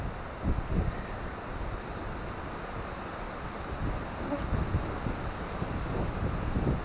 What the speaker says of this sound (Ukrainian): От вітер скажений.